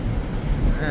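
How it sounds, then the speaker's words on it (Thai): Strong wind roars and buffets the microphone steadily throughout on a ship in the mid-Atlantic, with a low rumble of the vessel running against the waves. "ลมแรงมาก"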